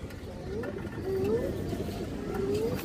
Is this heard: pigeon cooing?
yes